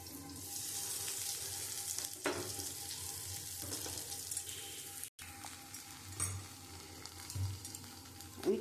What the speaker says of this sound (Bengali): আমি এই তেলের মধ্যে আমি একটুখানি হিং দিয়ে দিচ্ছি।